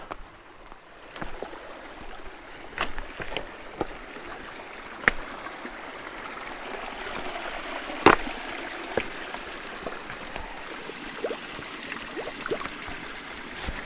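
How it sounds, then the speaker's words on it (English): A large mountain creek running low flows in a soft, steady trickle, with scattered close clicks and knocks over the gentle water sound and no talk. "This is the last big creek."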